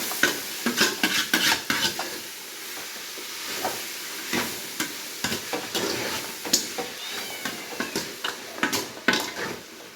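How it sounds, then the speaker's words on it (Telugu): Vegetables fry in a pan and get stirred, with a steady sizzle and hiss under repeated scraping strokes of the spoon, close and fairly loud throughout. "ఇప్పుడు ఈ కూరగాయలన్నీ కూడా ఫ్రై అవ్వాలి బాగా."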